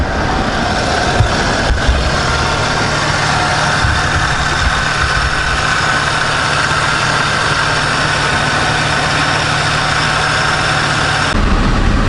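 A Honda V6 engine idles steadily up close with the AC compressor clutch engaged, a constant low hum with a faint whine, unchanged across the whole stretch until a slight shift near the end.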